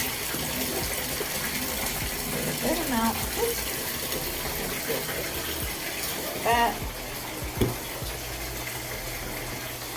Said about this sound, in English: I like to pour it under the water while it's running.